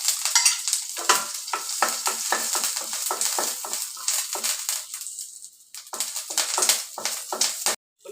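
Mustard seeds, urad dal, cumin and curry leaves are tempered in hot oil for pongal. The result is a loud, crackling sizzle with rapid popping and spattering bursts. It dips briefly near the middle and cuts off abruptly at the end.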